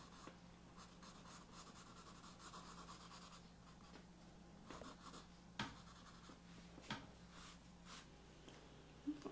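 Pencil shading a small border on a Zentangle drawing, quiet rhythmic scratchy strokes of graphite on paper in short bursts, close and faint with a low room hum underneath.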